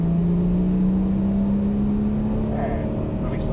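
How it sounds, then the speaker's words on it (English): A car accelerating hard down a racetrack straight, its engine droning steadily and loudly up close throughout, with a rising pitch from the in-car perspective and a voice talking over it. "So accelerate all the way through toward that green cone."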